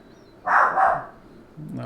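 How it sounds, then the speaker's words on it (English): A dog barks once or twice from nearby, a short loud burst that stands out against a quiet room. "the dog is barking."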